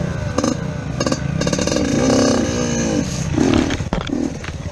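A two-stroke dirt bike engine revs hard and wide open, its loud, continuous buzzing roar rising and falling through several throttle bursts, close and without pause across the whole stretch.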